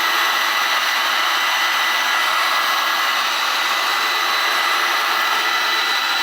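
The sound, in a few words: heating tool blowing hot air on a glass beer mug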